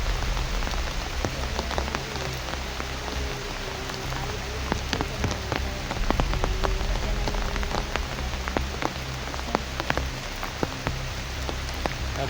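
Heavy storm rain drums on an umbrella in a dense, steady patter of close drops that runs unbroken throughout, with no voices over it.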